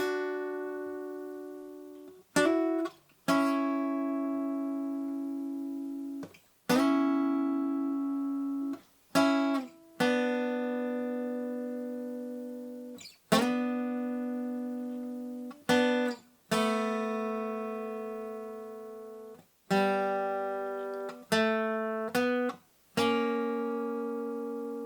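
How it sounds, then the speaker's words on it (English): Lead guitar plays the harmony section of a song alone, as a series of clear plucked notes that ring and decay, some held for several seconds and others in quick pairs. "So that's our harmony section for the lead guitar."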